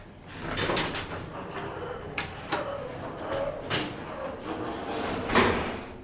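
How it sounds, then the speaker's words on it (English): Vintage 1970s Montgomery elevator doors on a traction lift sliding and rumbling shut, with several distinct clunks and thuds over a steady mechanical hum, fairly close and with no talking. "Montgomery door equipment."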